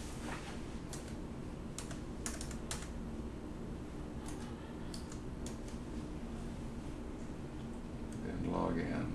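Keys on a computer keyboard tap out a password at a clinic login screen in quick, close clicking bursts with short pauses between them, while a fan hums low underneath.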